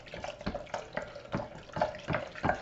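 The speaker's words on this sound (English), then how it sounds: "Now I'm going to add my scalded milk. I'm just going to pour that in and stir as I go here." Scalded milk poured from a pitcher into coconut cream pie filling while stirring, a soft close gurgling trickle with gentle rhythmic stirring clicks every half second.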